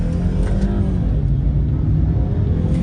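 A 150 hp BMW 120i accelerating on a road, heard from inside as a steady low engine drone with road rumble, loud and continuous with no speech.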